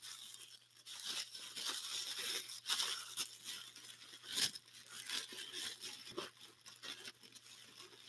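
Packaging is peeled and torn off a black-on-black 1992 Corvette ZR1 coupe promo model, giving a continuous soft crinkling and tearing texture with a louder rip near the middle, quiet and close.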